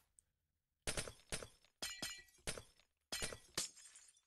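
Glass panes shattering in a video game: six sharp, bright breaking crashes in quick clusters, each with a crisp tinkling tail, loud and close after a brief quiet start.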